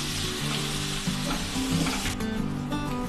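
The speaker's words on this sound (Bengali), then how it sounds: "এবার পেঁয়াজটাকে আমি ফ্রাই করব। এবার পেঁয়াজটা লাল লাল করে একটু ফ্রাই করে নেব।" Sliced onions fry briskly in a pan of oil, a loud, continuous crackling sizzle close by with no voices.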